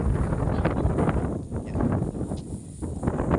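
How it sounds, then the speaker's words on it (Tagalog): Steady, strong mountain wind roars and buffets the microphone outdoors on a farm while rice seed is winnowed, gusting unevenly with a dense low rumble throughout. "dahil sa sobrang lakas ng hangin"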